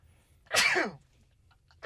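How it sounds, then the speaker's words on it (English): A single loud, close sneeze bursting out after a moment of quiet, followed by the start of another sharp sound. "Hold on, gotta sneeze."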